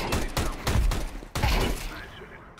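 Counter-Strike 2 gunfire in a quick burst of sharp, close shots, a rapid cluster followed by a pause and another volley, ending in quieter decay.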